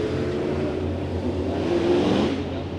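Race cars roar around the oval at Santa Maria Raceway during a heat race, a dense, continuous engine drone that swells with a rising rev near the end as cars pass close.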